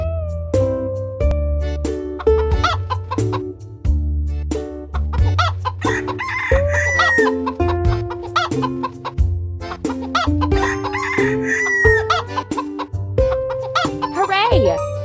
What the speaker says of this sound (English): Our hens are hungry.